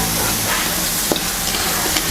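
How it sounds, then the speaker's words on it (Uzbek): Meat frying in a pot for spicy Uzbek street-food pilaf gives a steady, close sizzle with a faint crackle, alone and unbroken throughout. "go'shtni qovurib olamiz."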